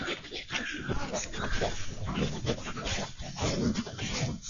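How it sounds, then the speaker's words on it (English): A dog barks repeatedly amid a busy, noisy background with people talking throughout, at Oulton Broad, Suffolk. "he's barking now"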